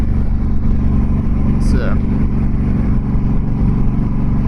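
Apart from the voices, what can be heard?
Harley-Davidson Dyna Fat Bob 103 motorcycle accelerating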